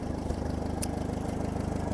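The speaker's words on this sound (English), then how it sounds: "Just listen to that engine, would you? Just purrs like a cat." A 1954 tractor engine idling nearby, a steady low rhythmic chugging with even, regular pulses and a brief faint click partway through.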